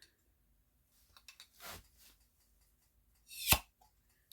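Vacuum-sealed jar of home-canned ground beef opened: a few light clicks and a soft hiss, then a single sharp pop as the lid breaks its seal, in an otherwise quiet kitchen.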